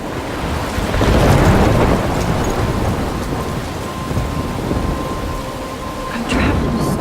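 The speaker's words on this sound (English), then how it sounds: "I'm trapped in a storm." Thunderstorm in the video game Life is Strange, with heavy, steady rain and a loud rolling rumble of thunder swelling early, then continuous downpour hiss with a fainter rumble near the end.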